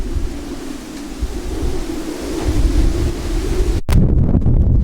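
Strong wind roars and buffets steadily, rumbling low and loud, with a brief cut near the end before the gusts continue.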